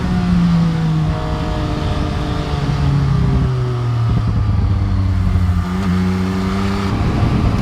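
MV Agusta Brutale Dragster RR motorcycle accelerating hard through the gears with a quick shifter, the engine note rising and dropping in steady steps with each clutchless upshift, loud and close with no talk.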